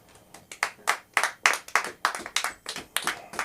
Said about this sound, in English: Y'all clap it up for Brendan Weeks, man.